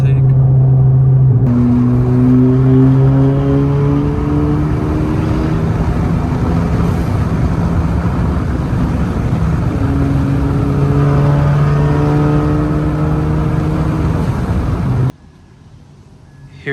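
A 10th-gen Honda Civic Si engine with an aftermarket intake revs repeatedly, its pitch climbing and falling in several sweeps, loud and close, before cutting off near the end.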